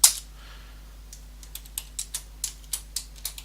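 Computer keyboard typing a line of code, a run of about a dozen distinct close keystroke clicks at a moderate uneven pace over a faint steady hum.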